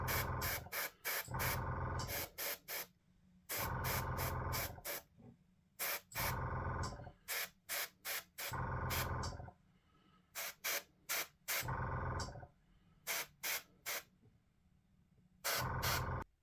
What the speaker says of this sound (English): it's going to be a bit more precise now using the precision of the airbrush